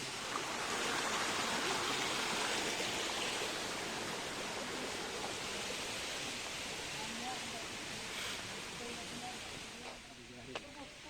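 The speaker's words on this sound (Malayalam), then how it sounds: "ഇതിക്കൂടെ ഒരു അരുവി ഇങ്ങനെ ഒഴുകുണ്ട്." A hill stream in Munnar rushes steadily as a broad, continuous hiss of flowing water, close and even throughout, with no voices heard.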